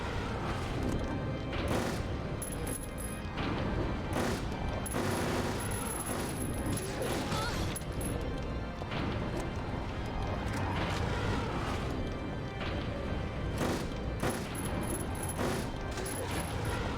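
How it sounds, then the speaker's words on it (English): Machine gun fire in the survival horror video game Silent Hill 3, a sustained loud stream of rapid shots with crashing impacts running almost unbroken throughout. "I guess I should bring out the machine gun now."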